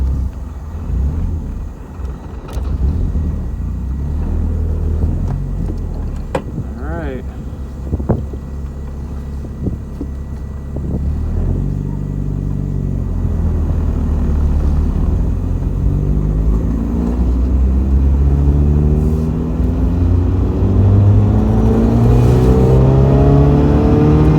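A Mazda Miata engine revs and accelerates through the gears, rising and falling in pitch, with wind buffeting the microphone and road rumble throughout.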